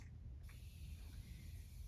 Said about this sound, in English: Usually I like to put the setting spray on again